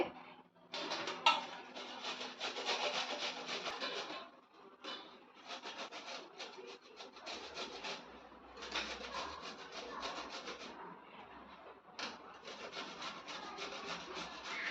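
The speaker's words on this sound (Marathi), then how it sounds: "मी ही सालीसकट काकडी किसून घेते" Cucumber with the peel left on is grated for cucumber thalipeeth, giving steady rhythmic rasping strokes that run in close bursts with brief pauses, loud and near, with no talking.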